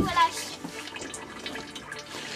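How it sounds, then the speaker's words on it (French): Engine oil draining from a car during an oil change, a soft continuous trickling and splashing of liquid into a container, steady and close, with people talking over it. "Voilà, c'est bon, ça vidange."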